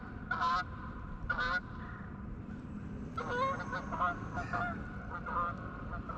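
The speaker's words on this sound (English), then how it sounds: "I always like them geese." Geese honk loudly and repeatedly nearby, two quick calls then a longer overlapping series, with outdoor rumble underneath.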